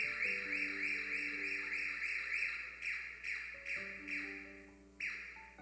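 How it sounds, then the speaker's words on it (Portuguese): An alarm goes off during a sermon, with a steady, repeating warbling tone in rising and falling pulses, fairly faint and unbroken by talk. "Vai tocar esse alarme, desliga ele."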